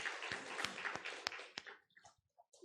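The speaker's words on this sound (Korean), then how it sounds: "하나님께 영광의 박수를 돌립니다" A church congregation claps in praise during a Sunday service, a short, moderately quiet round of applause with a few sharper claps that quickly fades into near silence and faint murmurs.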